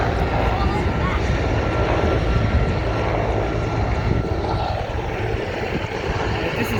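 A military transport aircraft flies past at an air show in Serbia, its engines a steady, loud, broad roar that fills the whole stretch, with spectators talking nearby.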